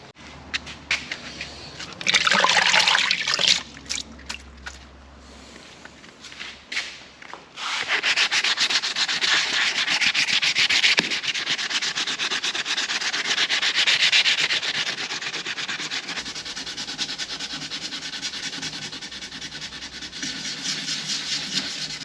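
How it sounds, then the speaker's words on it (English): Steady, rasping hand sanding strokes on fibreglass repair patches on a boat run continuously for over twenty seconds, loud and close, with a short pause early on before the scrubbing resumes. "So we'll get to sanding."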